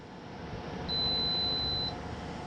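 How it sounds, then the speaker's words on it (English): INNOPAW automatic cap cleaning machine giving one steady electronic beep about a second long at the end of its five-minute steam cycle, clear over a constant low hum of room noise. "it's run its 5-minute steam clean, and it's beeping, signaling the end of the cycle"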